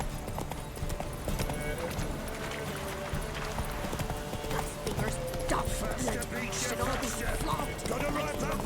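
Roach the horse gallops in The Witcher 3, hooves clip-clopping in a steady, rapid rhythm throughout, with voices talking over the hoofbeats.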